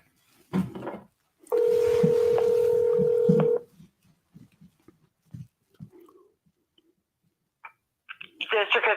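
A phone call being transferred by an automated system, with a steady two-second telephone tone and clicks, set among brief bursts of voice and a short burst of rapid electronic tones at the end.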